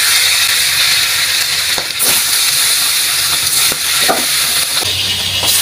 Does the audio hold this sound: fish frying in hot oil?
yes